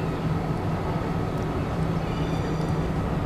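Tram in the video game Bus Simulator 21 driving along, a steady rumbling rolling drone with low hum throughout, close and continuous with no talk.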